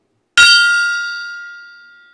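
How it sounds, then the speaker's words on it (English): A single sharp metallic strike of a gong rings out loud and close, then its bright, bell-like tone sustains and slowly decays over about two seconds with nothing else heard. "that definitely calls for the second gong hit of the case and of the day"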